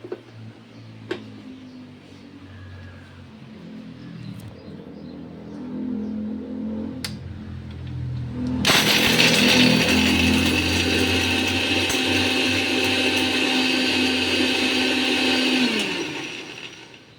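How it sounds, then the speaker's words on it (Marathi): An electric mixer grinder jar crushes chocolates into crumbs. A quiet prelude of handling comes first, then the motor starts abruptly into a loud, steady grinding whir that runs for several seconds before winding down. "आता आपण मिक्सरला अशी लावून द्यायची."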